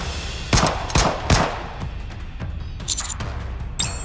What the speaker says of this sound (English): How many shots is she going to fire? Wait! Stop shooting!